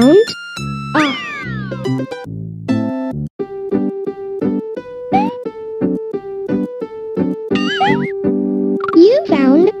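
Cartoonish cat meows from the SNES game Mario's Early Years: Fun with Letters ring out several times over bright electronic music, with a narrator's voice speaking between the jingles and sound effects.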